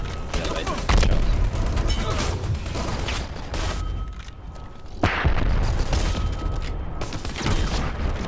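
Gunfire and grenade blasts in a Dirty Bomb team matchmaking game: dense, continuous shooting with a couple of sharp, loud bursts near the start and midway, filling the whole stretch.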